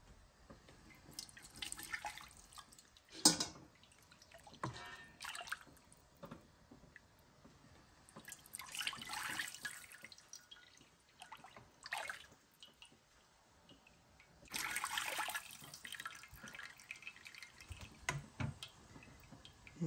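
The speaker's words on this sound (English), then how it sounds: "So now I'm going to put these back into the original pot, strain it through cheesecloth" Turkey broth poured back into the original pot and strained through cheesecloth, heard as intermittent splashing and dripping liquid in several bursts, fairly quiet with gaps between pours.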